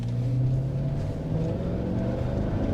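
A car engine pulls hard at full throttle, a steady loud droning rumble that holds without pause, with no speech.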